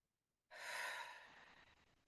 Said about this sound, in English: we're going to take a couple of deep breaths.